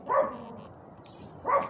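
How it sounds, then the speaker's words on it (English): A dog barks outdoors, two separate loud barks about a second and a half apart with a quiet gap between, fairly close and without talk. "Sorry for the dog, but he has the bark."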